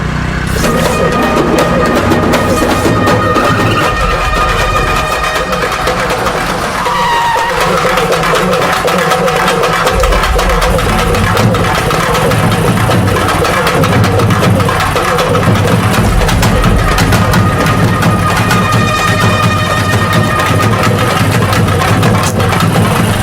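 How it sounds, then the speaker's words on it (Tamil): A car engine runs steadily throughout while the vehicle is driven in a jerky, uneven way, giving a continuous low rumble and idle-like hum with some mid-range noise layered over it. "டேய், என்னடா வண்டி ஓட்டுற? ஏன்டா ஜெர்க் அடிக்கிற? பார்த்து ஓட்டு."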